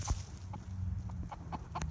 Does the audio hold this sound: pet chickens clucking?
yes